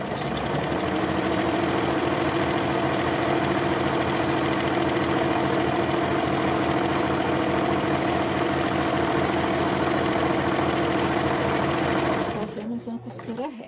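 A sewing machine runs a straight seam on fabric for a tea towel with a fabric border, a loud, steady, close mechanical whir held for about twelve seconds before stopping.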